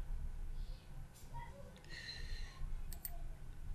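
A computer mouse gives a few sharp, quiet clicks spaced across a few seconds, with a quick double click near the end, over a low background hiss and soft breathing.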